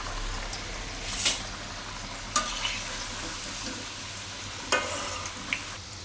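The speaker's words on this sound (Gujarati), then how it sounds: "આ મુઠિયા આપણે ધીમા તાપે આ રીતે તળી લીધા" Gujarati muthiya dumplings deep-fry gently in oil over a low flame, a soft steady bubbling hiss with a few faint clinks of a utensil, close and quiet.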